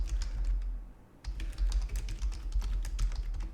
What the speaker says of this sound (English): A lot of typing here.